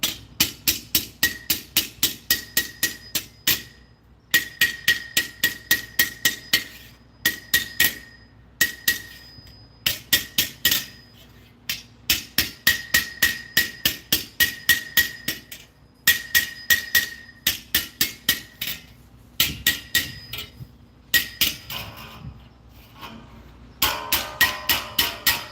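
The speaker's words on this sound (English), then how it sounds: "You let the hammer do all the work." A blacksmith hammers steel in rapid bursts of ringing metallic strikes, each run of blows followed by a short pause, loud and close throughout with no talking.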